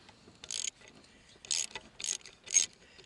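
A ratchet wrench loosens a glow plug on a diesel engine in four short, faint clicking bursts separated by brief pauses, heard alone up close.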